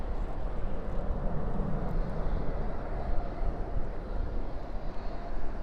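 A jet airliner at DFW airport at night, its engines a steady, distant broadband rumble that holds level throughout with no clear rise or fade.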